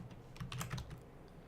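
Soft clicking of a computer keyboard during coding, a short burst of several close keystrokes in a quiet setting with no speech.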